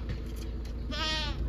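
A goat in the village of Studenoye gives a single clear, wavering bleat near the end, close by, after a moment of rustling outdoor background.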